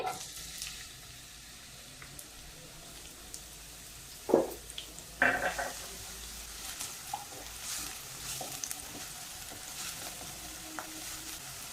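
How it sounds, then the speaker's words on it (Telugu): Chopped onions frying in three tablespoons of hot oil in a pan for mushroom curry, a soft steady sizzle with a few sharp stirring clatters, fairly quiet and without speech. "ఆయిల్ హీట్ అయిన తర్వాత మనం చాప్ చేసుకున్న ఆనియన్స్ వేసుకోవాలి"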